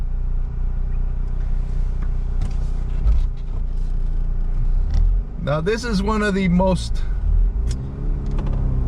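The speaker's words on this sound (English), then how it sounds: "Today, we're in my son's 2008 Mazda RX-8 Sport" A 2008 Mazda RX-8 Sport with a rotary engine runs steadily as a low, continuous rumble from inside the cabin, with someone talking over it throughout.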